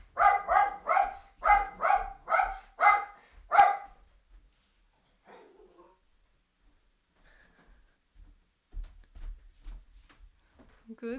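A dog barks at a delivery worker at the door, about eight loud, evenly spaced barks in a quick run, followed by quiet with faint rustling and a few low sounds.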